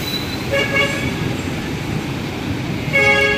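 An MRT/LRT train rolls past on elevated rails near a station under construction, a steady rumble with brief horn-like tones sounding twice, fairly close and without talk.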